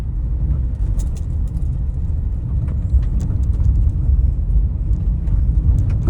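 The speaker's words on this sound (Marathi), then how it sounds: "अगदी 10-15च्या स्पीडने गाडी चालवावी लागते" A car crawls at low speed over a badly potholed village road near Vadgaon Amli, Bhandgaon and Jamgaon. A steady, close engine rumble runs under faint knocks and rattles, with no talking.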